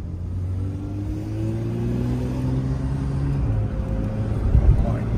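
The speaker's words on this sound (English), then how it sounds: "I definitely didn't think I'd be driving a new GT3" A Porsche 992 GT3 engine pulls through a rising rev, the loud close drone climbing steadily in pitch over several seconds before easing off, under a constant low rumble.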